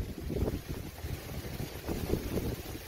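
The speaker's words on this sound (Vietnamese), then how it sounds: "Này gió quá các bạn ạ." Strong wind blows outdoors at a rice-field fishing spot for climbing perch. It buffets the microphone with a steady, loud rumble that surges and eases, with no talk in the clip.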